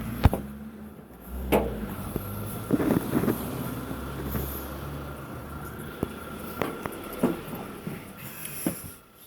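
A critical care ambulance reverses outside a block of flats, an engine idling and rumbling nearby with intermittent clunks and sharp knocks over a steady street hum.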